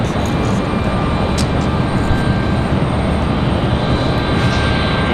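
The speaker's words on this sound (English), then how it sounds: "Southwest coming in." Broadband jet roar from a Southwest airliner on approach to land at Raleigh-Durham airport, steady and loud throughout with no clear rise or fade.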